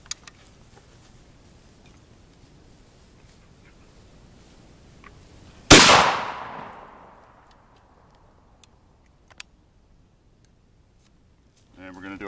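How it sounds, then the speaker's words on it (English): A single loud shotgun blast from the 20 gauge barrel of a Savage Model 24 firing number 6 shot rings out outdoors, decaying over a couple of seconds amid quiet surroundings with faint clicks. "we're going to go ahead and do our number 6 on the 20 gauge barrel"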